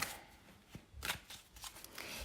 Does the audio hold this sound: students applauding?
no